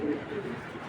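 A racing pigeon gives a short, soft coo near the start, close by but quiet, followed by faint room ambience.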